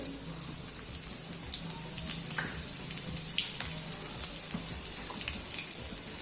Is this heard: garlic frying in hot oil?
yes